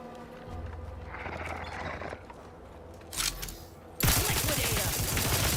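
Gunfire in The Outer Worlds 2 video game: a brief burst of shots, then a loud, sustained barrage of rapid fire over ambient game noise.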